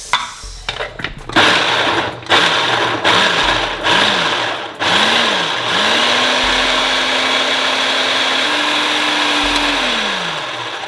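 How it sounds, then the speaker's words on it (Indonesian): A food processor blitzing ingredients for sweet soy chicken, a loud whirring motor that revs in short pulses, then runs steadily with rising and falling pitch before winding down. "Jadi food processor tuh kayak gini, dia kayak blender yang pendek, langsung masuk."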